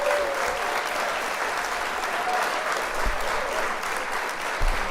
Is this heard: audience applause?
yes